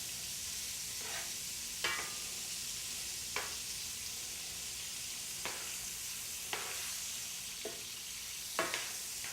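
Food browns in a paella pan with a steady, close sizzle, broken by a few sharp scraping clicks from stirring.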